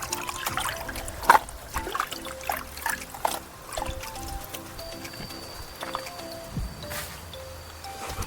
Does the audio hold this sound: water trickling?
yes